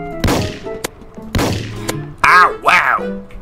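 Gunfire from a weapon in the retro game Dusty Trip: two heavy booming shots with decaying tails, followed by quacking, squawking game sounds.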